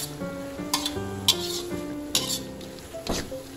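Offal and holy basil stir-fried in a hot pan, a steady sizzle broken by sharp metallic scrapes and clinks of the spatula against the pan, close and clear with no talking.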